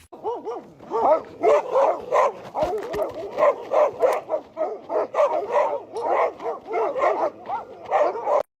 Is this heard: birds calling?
no